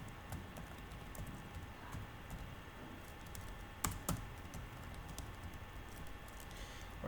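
Keys clatter on a computer keyboard as HTML code is typed, with a steady run of light, quick taps up close and a couple of louder key strikes midway.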